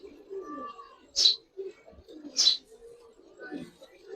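Giribaz pigeons coo softly in low, repeated murmurs, nearby and calm, broken by two sharp bright bursts like wing flutters.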